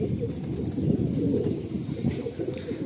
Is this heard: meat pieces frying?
no